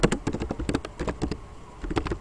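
Code typed on a computer keyboard, a quick close run of key presses with a brief pause before the tapping resumes, no voices.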